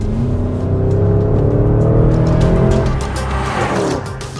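A 2024 Porsche Cayenne Turbo GT engine drones loud and steady from inside the cabin while driving, a rich low rumble that swells under load, then eases off near the end.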